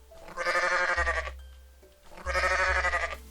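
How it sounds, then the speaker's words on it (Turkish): Two long, wavering goat bleats from the video game Goat Simulator, close and loud, separated by a short quiet gap. "Evet şurada da bir tane keçi var bakın."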